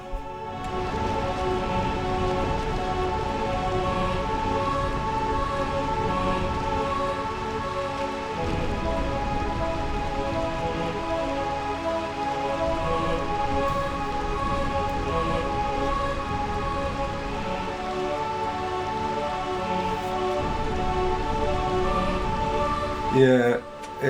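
Steady rain in the city of Burmecia in Final Fantasy IX, a constant hiss of drops on surfaces with a low rumble underneath, continuing evenly throughout, with a sharp burst near the end.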